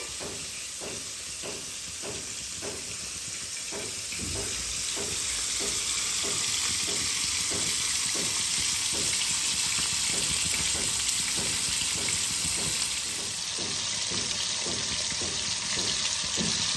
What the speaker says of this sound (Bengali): মাছগুলোকে আমি একদম আঁচ কমিয়ে দিয়ে আস্তে আস্তে করে ভেজে নেব, লাল লাল করে ভাজবো মাছগুলোকে